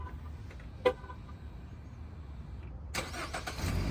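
A 2015 Jeep Cherokee is started remotely from a smart key fob: a short chirp comes first, then after a quiet pause the engine cranks and catches, settling into a close, steady idle.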